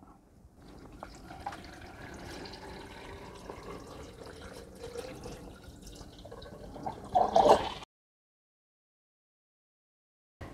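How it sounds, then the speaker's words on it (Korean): Soy sauce brine, about 1700 cc mixed in total, poured from a container over garlic in a jar for pickling, giving a steady close liquid splash and trickle that builds near the end before stopping abruptly. "자, 다 섞어진 간장물을 부어 보겠습니다."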